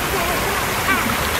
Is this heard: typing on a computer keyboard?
no